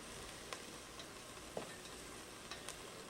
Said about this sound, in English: And keep stirring this around.